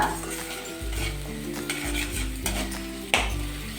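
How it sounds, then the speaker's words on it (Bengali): Tomato masala being stir-fried in a pan for an eggless curry, a loud close sizzle broken by repeated scraping strokes of a spatula against metal, with a sharp clink near the end. "টমেটার একটা কাঁচা যে গন্ধ থাকে সেটা চলে যাওয়া অব্দি কিন্তু কষিয়ে নিতে হবে মশলাটা"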